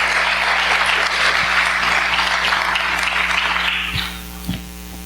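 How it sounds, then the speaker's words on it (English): Audience applause at a Southern Baptists of Texas Convention gathering, a dense wash of clapping that fills most of the clip at steady volume, then thins and fades in the last second over a low electrical hum. "Give another round of applause for Pastor Danny Forshee."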